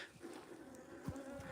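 Close, steady buzzing of bees at a bee feeder near the hives during a midwinter inspection, with small swells in loudness and no speech.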